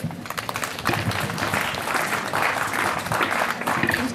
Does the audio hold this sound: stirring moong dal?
no